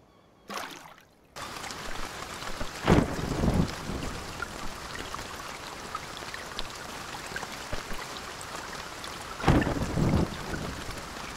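Canoe paddling between islands in the Escape the Pacific survival game, heard as steady wind and ocean wash with a couple of louder splashy surges, after a brief burst at the start.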